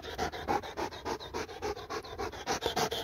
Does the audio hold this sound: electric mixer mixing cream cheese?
no